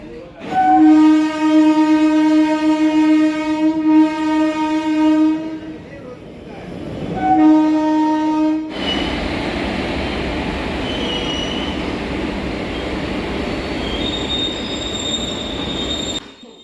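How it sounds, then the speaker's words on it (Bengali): A local train rumbles past close by, with a loud horn blaring in long sustained tones at the start, then steady heavy wheel and carriage noise with some squealing. "অনেক দিন পর আবার লোকাল ট্রেনে ট্রেন পেয়ে গেছি"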